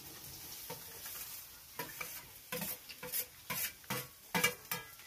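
Onion going into hot oil with mustard seeds and cumin for a bitter gourd stir-fry: a soft sizzle with repeated scraping stirs of a spoon against the pan, growing louder and more rhythmic toward the end.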